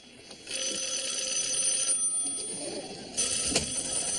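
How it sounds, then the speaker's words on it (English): An unanswered telephone rings in a sitcom room scene, its bright electronic trill repeating in bursts over a steady background, with a louder ring near the end. "Feel the power of not answering a ringing phone."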